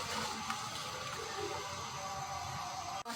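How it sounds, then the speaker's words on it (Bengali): Water poured into spice masala frying in a pan while cooking fish with banana, a steady broadband rush and sizzle running close and continuous, then cutting off abruptly near the end. "একটু পানি দিয়ে দিলাম, দিয়ে মশলাটাকে কষাবো"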